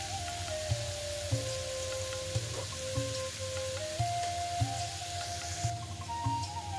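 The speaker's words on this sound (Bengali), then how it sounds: "আরেকটা চুলায় আমি পেঁয়াজটাও ওদিকে আমার ভাজা হয়ে যেতেছে, এদিকে এই উস্তা ভাজিটাও হইতেছে" Onions and bitter gourd frying in separate pans on two stoves, a constant fine crackling sizzle like light rain, with a faint hum and small regular clicks underneath.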